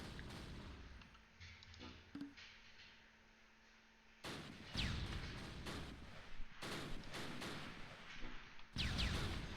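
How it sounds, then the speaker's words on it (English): Machine gun fire in the WWII strategy game Close Combat Last Stand Arnhem, near the Arnhem rail bridge: sharp bursts of gunfire break out after a quiet, rumbling stretch, then repeat in loud clusters. "MG's opening up"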